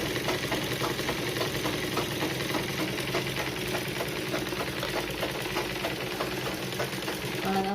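Sewing machine running steadily while stitching a quarter-inch seam along the front neckline of a blouse, a continuous close mechanical whir with rapid needle rhythm throughout, no talking.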